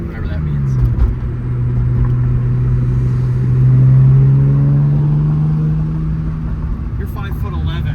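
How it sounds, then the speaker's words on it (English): Exhaust drone of a 1995 Ford Probe GT with a five-speed manual, heard from the passenger side while driving: a steady low hum that swells briefly, with a voice talking over it. "Exhaust is less droney from the passenger side, I think."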